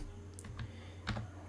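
Close keystrokes on a computer keyboard while coding HTML, a few quick, light clicks in an irregular rhythm over a faint steady hum.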